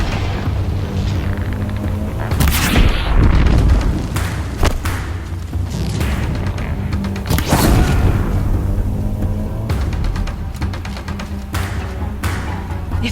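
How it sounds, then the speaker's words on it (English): Deathbringer machines firing in Horizon Zero Dawn on PS5, heavy booming thuds and blasts repeating every few seconds over a steady low rumble, loud and close. "If the Deathbringers keep firing, this bridge will go."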